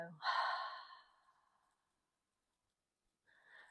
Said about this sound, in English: Inhale through nose. Exhale out mouth. Let it go.